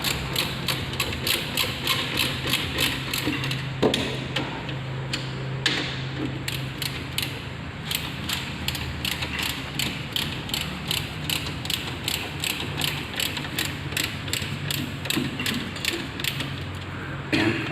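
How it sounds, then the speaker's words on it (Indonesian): Ratchet wrench with a 14 mm socket tightening the differential bolts on a Daihatsu Hijet 1000, giving steady rapid clicking strokes close up, repeated throughout with a few metallic knocks. "untuk pengencangannya menggunakan racik lagi, tapi arahnya kita balik ke arah kanan"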